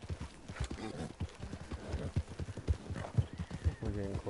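Hooves clop at a steady, trotting rhythm in Red Dead Redemption II, with a horse neighing near the end; someone talks over part of it.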